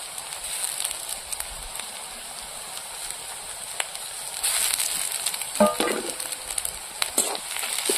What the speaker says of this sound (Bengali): পেঁয়াজ রসুন গুলো ভালো করে কষিয়ে নিয়েছি